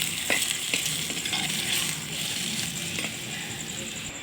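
Steady frying sizzle of tomatoes sautéing in a clay pot, with occasional stirring clinks and scrapes over a continuous hiss.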